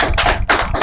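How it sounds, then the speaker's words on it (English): Podcast hosts clap together for their tenth episode, a short, close burst of a few hand claps with no talking. "Let's give it a clap"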